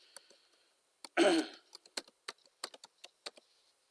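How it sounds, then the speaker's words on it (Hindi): Computer keyboard keys tapped while a password is entered, about a dozen separate clicks spread out at a steady pace after a short louder burst, close and fairly quiet with no voice over them. "पासवर्ड हम इसमें जो लिखना चाह रहे हैं वो लिखते हैं"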